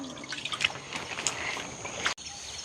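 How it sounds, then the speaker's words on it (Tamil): Water running and dripping in a village irrigation channel, a faint close trickle with small splashes and bright droplet sounds, heard on its own. "எப்படி தண்ணி ஓடுதுன்னு பார்த்தீங்களோ?"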